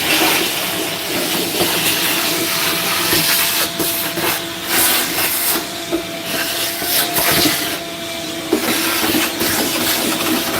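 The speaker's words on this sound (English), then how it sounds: "Put the vacuum in closer." A vacuum cleaner runs loud and close inside a 1984 Buick Regal with a continuous hissing roar. It wavers slightly as it moves and a few faint knocks sound beneath it.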